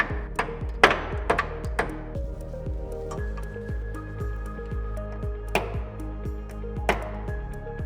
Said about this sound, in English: Now we're going to reinstall our roll pin.